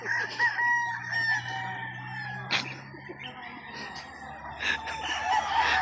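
A rooster crows with strained calls over a steady murmur of hens clucking nearby, with a sharp crow standing out around the middle and bird chatter continuing throughout.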